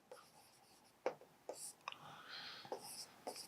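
A pen writing out a calculus solution for a definite integration lesson, with soft scratchy strokes and sharper taps as symbols are formed, close and quiet, coming in uneven bursts with short pauses between.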